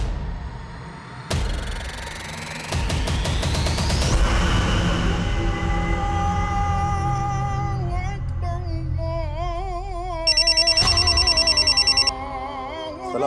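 A telephone rings indoors in a tense drama scene, a bell-like ring rising out of background music and sound effects and then ringing steadily for a couple of seconds near the end.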